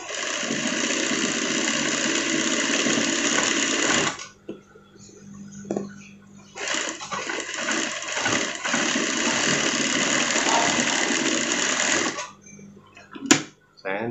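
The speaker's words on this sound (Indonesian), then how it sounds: "cuma kali ini kita pakai mesin jahit saja supaya tidak bolak-balik ya" A sewing machine stitches a pocket onto a sweater jacket in long loud runs of rapid, even mechanical chatter, broken by a short pause. A voice talks quietly during the break.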